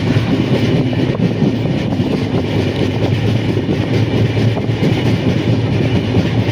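A train rolls steadily through hilly forest country, a loud, continuous rumble with faint rhythmic clatter from the wheels on the rails, heard from on board with no voices.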